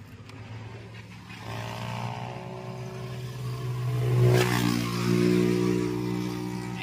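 The 4JB1 diesel engine of an Isuzu NHR55 truck, wired straight to the battery for the solenoid and starter, fires up and runs with a close, throbbing idle that climbs into a louder rev before settling.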